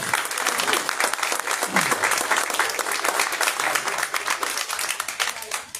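At the opening of a José Venturelli art exhibition, the crowd gives strong, continuous applause for Dalma Venturelli, steady clapping lasting about six seconds and fading slightly at the end.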